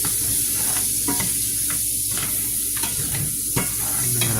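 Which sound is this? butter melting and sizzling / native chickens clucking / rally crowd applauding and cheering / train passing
butter melting and sizzling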